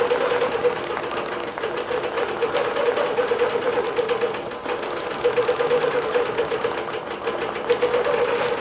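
A computerized quilting machine stitches a row of butterfly motifs across a floated quilt top, its rapid steady needle chatter running continuously and fairly close throughout.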